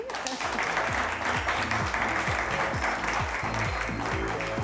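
An audience at a French-language talk show applauds for several seconds in a continuous wash of clapping, with a rhythmic low musical pattern running beneath it.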